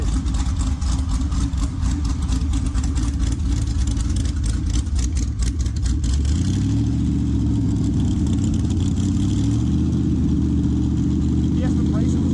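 A twin-supercharged 1200 hp car engine roars loudly and continuously, its pitch shifting from a rough, pulsing rev to a steadier drone, with voices talking over it.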